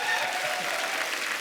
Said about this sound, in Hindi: इनके लिए जोरदार ताली हो जाए